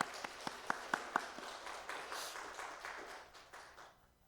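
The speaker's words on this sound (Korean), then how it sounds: "하나님 앞에 영광의 박수 올려드리겠습니다" Scattered applause rises in a church congregation, a few sharp claps at first thickening into a soft, steady patter that fades out at the end.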